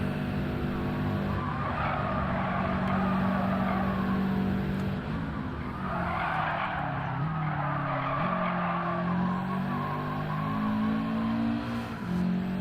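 Race car tires skidding and squealing in Gran Turismo 7, a long continuous screech over a steady engine drone during an online time trial.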